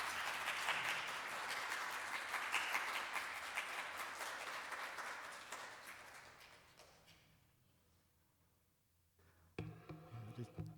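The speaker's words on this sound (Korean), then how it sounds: "여러분 하나님 앞에 감사의 박수 우리 한번 뜨겁게 올리시면서" A congregation at a Korean Wednesday church service claps warmly in thanks, a dense, loud wave of applause that gradually thins and fades, followed by a brief burst of sound near the end.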